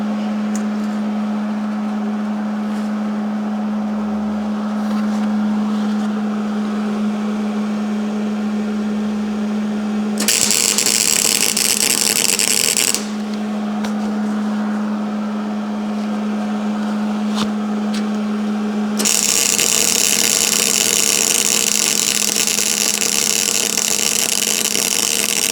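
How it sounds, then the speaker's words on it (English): Welding a repair on a metal shepherd's hook: a steady buzzing hum broken by two bursts of loud crackling hiss, one lasting a few seconds and a longer one toward the end, close and loud. "Let's get this welded up."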